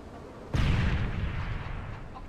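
A frag grenade blast from the Modern Warfare 3 video game booms with a heavy low rumble, rolling on for over a second at moderate loudness, with no talk over it.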